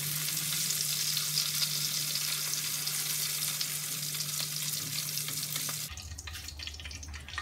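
Okra frying in hot oil in a karahi for achari bhindi masala, a loud, dense, steady sizzle that drops abruptly to a quieter hiss near the end.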